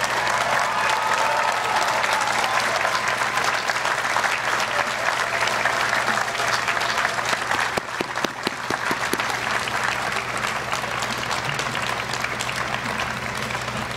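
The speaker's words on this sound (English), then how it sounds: "give a round of applause to your family members who celebrate with you here today" A large audience at an undergraduate university commencement ceremony applauds for graduates' family members. The clapping is loud, dense and sustained for about fourteen seconds, briefly thinning midway before swelling again, with a steady low hum beneath it.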